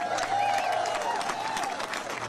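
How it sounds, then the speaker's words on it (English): Audience applause at a Texas House Democrats gathering in Boston, steady dense clapping throughout with a sustained tone and faint voices underneath. "So give yourselves a big round of applause"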